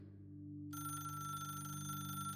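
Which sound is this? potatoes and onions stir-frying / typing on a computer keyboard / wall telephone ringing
wall telephone ringing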